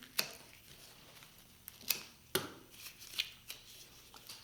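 Scissors snip a leucadendron flower stem while a funeral flower arrangement is built, several faint, sharp clicks spread irregularly over a quiet background.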